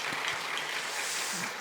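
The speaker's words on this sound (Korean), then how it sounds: "하나님께 감사의 영광의 박수를 드립니다." A church congregation applauding during a worship service, a brief soft burst of clapping heard at a distance in a reverberant room.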